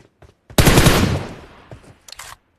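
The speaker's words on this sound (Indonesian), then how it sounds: "nembak bot dia" A sudden loud burst of rapid gunfire in the PUBG Mobile game, aimed at a bot, up close and dense, decaying over about a second, followed by a few faint clicks and short bursts.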